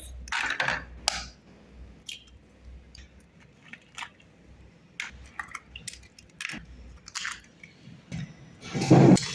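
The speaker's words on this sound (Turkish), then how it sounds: "Toplamda 6 tane de yumurta kırıyoruz." Six eggs cracked one after another for a carrot cinnamon cake, giving sharp, brief taps and cracks spaced irregularly over a quiet kitchen background.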